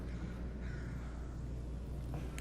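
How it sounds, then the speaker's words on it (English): Crow cawing inside the virtual-reality game Half-Life: Alyx, a steady low-level caw blended into continuous background game ambience, with no talking. "I'm still hearing crow noises"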